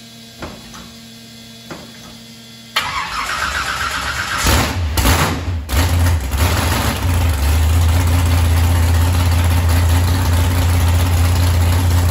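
A car engine cranks and fires on its first start after cam timing work, then settles into a steady, loud, close idle with a deep low rumble that runs to the end with no talk.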